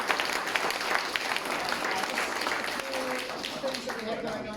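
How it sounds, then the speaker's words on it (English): Applause from a small seated audience at a product managers' meetup in Auckland, steady dense clapping through the whole stretch, with voices murmuring underneath toward the end. "round of applause for our presenters"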